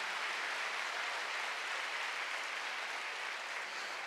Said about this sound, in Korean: 박수로 하세요. 하나님을 찬양.